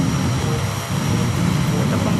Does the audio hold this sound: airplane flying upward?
yes